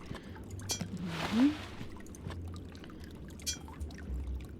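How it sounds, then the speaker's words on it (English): Hands dipping into a stone font of stagnant, discolored water on a tower landing in the Shadowgate video game: a single soft splashing slosh swells briefly near the middle, over a low steady background hum. "You dip your hands in the stagnant water"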